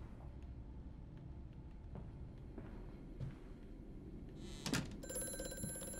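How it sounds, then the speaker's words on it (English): An old telephone in the horror video game Amnesia: A Machine for Pigs starts ringing near the end, a bright metallic bell trill that follows quiet footsteps and low room hum. "An old telephone that's ringing, which makes this crap even creepier."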